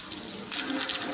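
A high-pressure water nozzle spraying the sides of a tank being cleaned, a dense, close, hissing rush of water that holds steady through the short moment.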